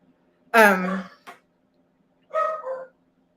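A pet dog barks indoors, one sharp yappy bark followed by a short yip and then a second, shorter bark after a pause of silence, close and fairly loud.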